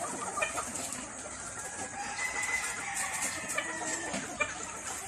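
Gamefowl roosters and hens cluck and squawk together at feeding time on a gamefowl farm, a steady busy flock chatter with occasional louder calls, no talk.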